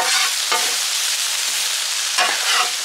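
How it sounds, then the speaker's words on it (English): Garlic and vegetables hiss loudly in a frying pan at a campsite, a bright steady sizzle punctuated by two scraping strokes as the mixture is stirred. "Mix the garlic in with the veggies."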